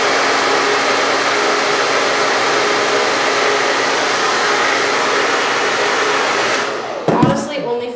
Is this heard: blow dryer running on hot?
yes